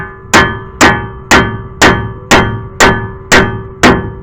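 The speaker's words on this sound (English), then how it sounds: "we're going to go ahead and hit the steering knuckle here to loosen up that that strut" Eight evenly spaced hammer blows ring out against the steering knuckle of a 2004–2011 Mazda 3, loosening the front strut; each strike is a sharp metallic clang with a short ringing tail, close and loud, with no talk.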